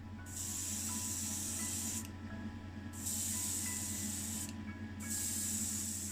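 A spray gun lays a coat of colour paint over black primer on a 1978 Renault 5, producing three steady hissing bursts separated by short pauses, close and moderately quiet.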